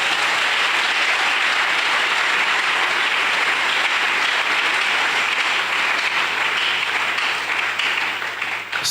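A church congregation breaks into loud, sustained applause and cheering for the Lord, a steady wash of clapping that holds throughout and starts to thin only at the very end.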